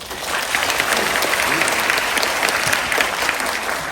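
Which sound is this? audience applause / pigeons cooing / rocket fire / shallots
audience applause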